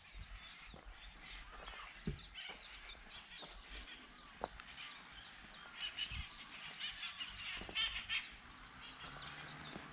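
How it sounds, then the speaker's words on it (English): A flock of wild parrots calls from dense trees on an island in winter, shrill squawks and chatter overlapping continuously at moderate distance, with occasional louder calls standing out against steady background noise. "There's a bunch of wild parrots all in here."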